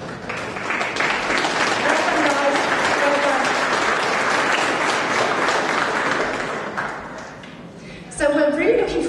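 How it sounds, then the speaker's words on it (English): A room full of people applauds steadily for several seconds, dense clapping that tapers off before a voice begins speaking over the last moments. "Let's give a round of applause"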